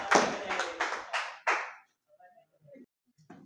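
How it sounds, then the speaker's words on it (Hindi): Students in a classroom give a short round of applause for a classmate, five sharp separate claps in quick succession followed by faint scattered sounds and quiet. "एक बार ताली तो भाई बजा दो बच्चे के लिए ना"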